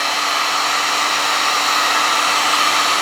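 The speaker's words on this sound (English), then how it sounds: "I'm going to use a heat gun here" Heat gun blowing on vinyl skin during a Honda Motocompacto wrap install, a loud, steady, close airflow roar that holds unchanged throughout.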